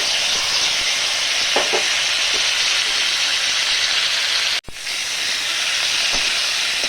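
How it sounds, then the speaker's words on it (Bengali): Black mustard seeds crackling in hot oil, a loud steady hiss and sizzle with a few sharp pops close by, briefly interrupted by a short dropout. "সর্ষেটা ফাটতে শুরু করেছে।"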